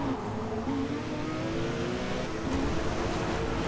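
Race cars downshifting in the racing video game Forza Motorsport, a continuous dense engine drone with gear changes, steady and loud with no talking.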